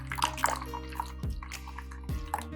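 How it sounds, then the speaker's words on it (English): Water poured slowly into a mold for a flower ice bucket, giving a few trickles, splashes and drips that start and stop in short bursts, close by, with no talk. "Now all we do, we pour water inside and put it in the freezer."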